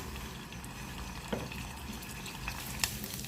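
Ground pork or beef sizzles steadily in a pan, a soft continuous hiss and crackle held at low level, with a couple of faint scrapes and clicks of a spoon stirring.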